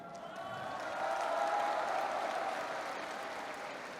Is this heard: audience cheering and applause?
yes